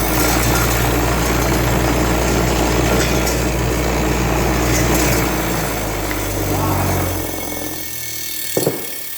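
Wire wheel grinder roaring loud and steady as it cleans a 1968 Pontiac GTO 400 intake water neck, then spinning down near the end with a brief clunk.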